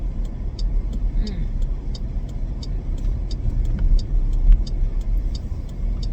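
A car drives along a road in a residential area, with a steady rumble of tyres and engine and a regular ticking of an indicator throughout.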